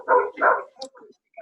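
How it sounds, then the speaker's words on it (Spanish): Dogs bark in two quick, loud, close woofs, then come softer yips and a whimpering tail, heard alone without talk. "Pero Steven, te están ladrando los perros."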